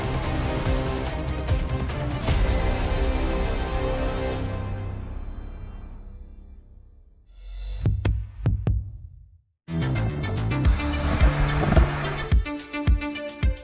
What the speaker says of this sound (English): exhaust system, which delivers an emotional and voluminous sound